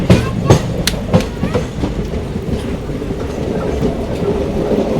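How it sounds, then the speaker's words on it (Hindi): The Shridham Express rumbles along the rails with loud clickety-clack wheel beats early on, then settles into a steady, close rolling roar as the carriage runs. "साहब किसी स्पेशल ट्रेन को भी ओवरटेक मार दिया अपनी श्रीधाम एक्सप्रेस ने"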